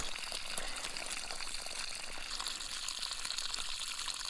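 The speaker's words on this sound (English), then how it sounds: "I'm gonna need some running water while we gut them." Quiet, steady running water for gutting trout and perch at an ice-fishing camp hisses and splashes continuously throughout, like a faucet left on, with no voices.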